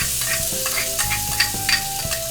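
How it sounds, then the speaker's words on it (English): About four crushed garlic cloves browning in two or three tablespoons of cooking oil, a loud steady sizzle with a spatula scraping and stirring the pan in irregular strokes, no voices. "Start with about 2 or 3 tablespoons of cooking oil, and we're gonna go ahead and brown our garlic."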